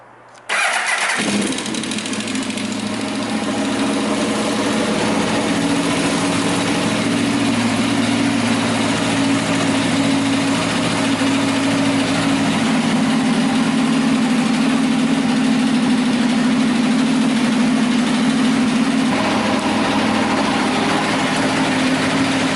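A motorcycle engine cranks and catches, then settles into a loud, steady idle, a continuous low rumble that holds evenly throughout with no talking over it.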